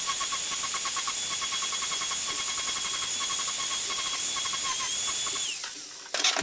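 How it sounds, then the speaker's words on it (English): Grinder sharpens the end of a metal pole into a hard point, a close, loud, steady whining hiss with a rapid pulsing tone, then it winds down abruptly near the end. "Now we're going to take our grinder and make this even sharper."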